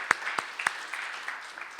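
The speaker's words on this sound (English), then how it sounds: "Maybe we should cheer." A handful of scattered hand claps from a lecture audience, three sharp ones close together, then softer sporadic claps fading out, with no cheering.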